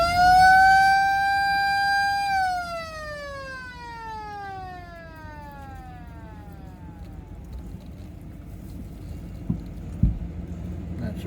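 A loud vehicle siren, used to call cows, wails with a rising then falling pitch, fading away over several seconds, leaving quiet outdoor background with a couple of faint knocks.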